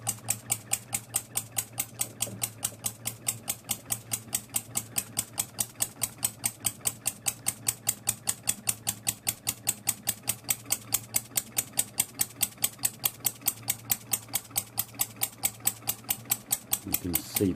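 A small model steam engine driven by compressed air at about 20 to 30 kPa, chuffing in a rapid, perfectly even train of sharp puffs, steady and close throughout with a low hum beneath.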